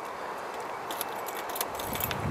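House keys jangling as a new homeowner takes them, bright metallic clinks scattered through the second half over a steady low background hum, close by and with no talk.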